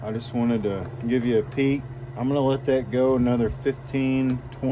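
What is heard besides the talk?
No everyday noise stands out behind the speech.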